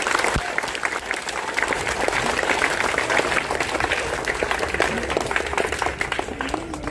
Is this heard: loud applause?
yes